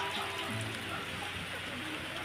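Steady rain falls outside a house, a dense, even hiss of drops on surfaces that holds at a constant level throughout.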